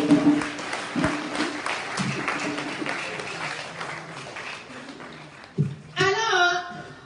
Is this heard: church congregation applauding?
yes